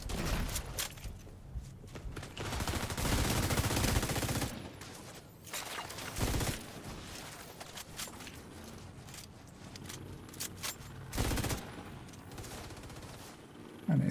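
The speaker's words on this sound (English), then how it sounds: "I think I get better at shooting those things" Rapid bursts of gunfire from a video game firefight against enemies, loud and close, with sustained volleys and short pauses between fusillades.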